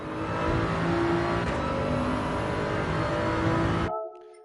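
A Toyota GR Supra GR3 race car in a racing video game roars at full throttle, its engine note loud and sustained as it climbs, then cuts off abruptly near the end.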